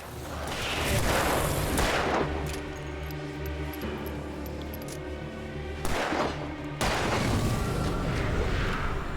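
Gunfire from the video game Alan Wake Remastered, with loud booming shots, a sustained ringing stretch and another burst of blasts near the end; no voices.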